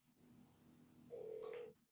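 A telephone keypad tone sounds as a number is dialed, one steady beep lasting about half a second over a faint background hum.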